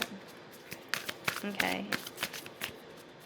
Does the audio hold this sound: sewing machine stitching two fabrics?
no